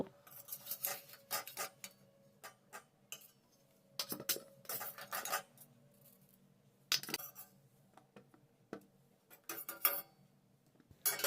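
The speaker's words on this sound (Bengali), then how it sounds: "এবার আমি এই আমলকিগুলোকে একটি প্লেটের মধ্যে নামিয়ে নেব।" A metal spoon scrapes and clinks against a pot and plate in short separate bursts, lifting boiled gooseberries, with quiet pauses between each scoop.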